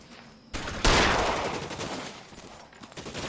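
Gunfire erupts in the video game L.A. Noire, sharp loud shots with a burst near the start followed by a decaying rumble and scattered cracks, close and forceful.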